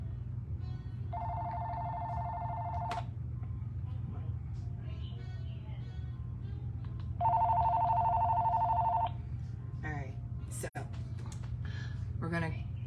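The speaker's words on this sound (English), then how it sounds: "Sorry, the phone was ringing." A telephone rings in two long trilling bursts, separated by a pause, over a low steady hum of indoor background noise.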